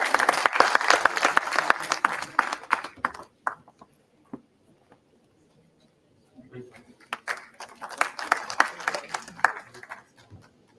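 Audience applause at an international law conference valedictory session, a full burst of clapping that fades into a near-silent gap before a second round of applause swells up again.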